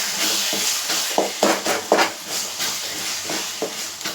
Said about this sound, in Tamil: இப்போ அதை நல்லா நம்ம மிக்ஸ் பண்ணிப்போம்